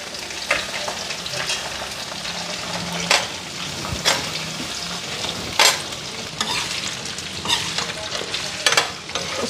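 Soybean chunks fry in a pan with a steady sizzle, while a spoon scrapes and stirs through them in irregular clinks and louder knocks, close by throughout.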